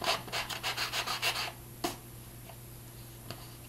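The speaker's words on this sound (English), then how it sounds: "I'm going to finish with my sanding sponge." A sanding sponge rubs across a mixed media book cover in about eight quick, rhythmic strokes, close and fairly loud. Two faint scrapes follow after a pause.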